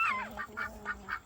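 Several short nasal quacks from a duck kept with chickens and roosters, coming in a quick rhythmic run of about five calls, close and fairly clear with no talk.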